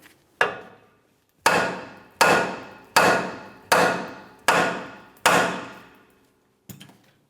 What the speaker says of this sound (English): I'm going to continue on causing a little bit of vibration with a hammer